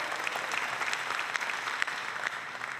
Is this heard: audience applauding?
yes